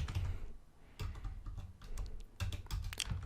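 Keys clatter on a computer keyboard as a short command is typed, a few quick bursts of clicks separated by brief pauses, close and moderately quiet with no talking.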